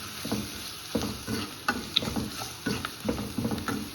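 Ingredients sauté in a hot pan with chili powder for drumstick leaves sambar: a steady sizzle with repeated stirring scrapes and light knocks of a spoon, close and moderately loud, with no talking.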